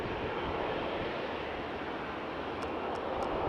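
An Embraer E195 jet flown by Portugal Airlines for TAP Portugal roars steadily at Faro Airport, a loud, broad engine rumble holding at an even level throughout, with no voices.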